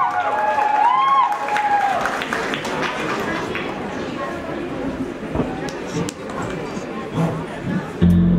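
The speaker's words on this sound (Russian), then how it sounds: "Давайте поприветствуем, ребят, солидарные аплодисменты." Audience applause and cheering in a hall at a cheerleading competition, a dense crowd roar that starts strong and carries on under whoops and chatter, with someone talking over it.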